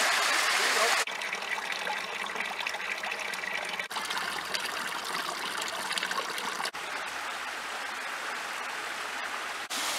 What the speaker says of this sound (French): Regardez, on peut voir ici une mini cascade